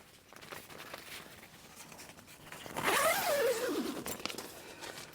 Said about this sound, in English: So we can zip that up